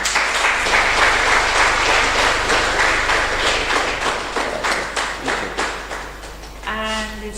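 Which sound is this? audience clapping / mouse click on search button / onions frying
audience clapping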